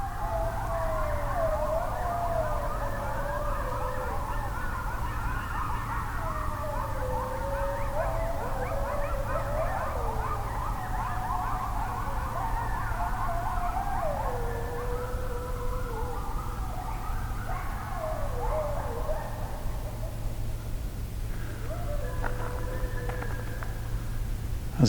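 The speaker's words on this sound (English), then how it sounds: "So it's the eastern coyote is the species." Eastern coyotes howl and yip together at night in a wavering chorus of rising and falling cries, moderately distant, over a steady low background hum.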